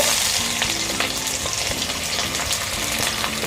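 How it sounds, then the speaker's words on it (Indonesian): Thinly sliced shallots sizzle steadily in hot oil for sambal tumis with anchovies, a constant close frying hiss broken by light scraping and stirring taps. "Saya akan tumis terlebih dulu bawang merah yang sudah diiris tipis."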